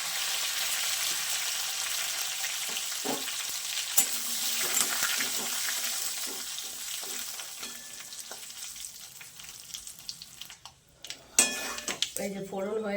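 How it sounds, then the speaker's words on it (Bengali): Mustard seeds, curry leaves and urad dal sizzle in hot oil for tempering, a steady close frying hiss with small pops and a few clinks of a stirring spoon against the pan, ending in louder scraping clatters. "এই যে ফোড়ন হয়ে গেছে, বিউলির ডালগুলো লাল লাল হয়ে গেছে।"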